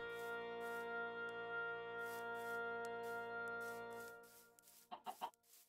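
Chicken clucking in Minecraft, a few short quiet clucks near the end over a steady background tone.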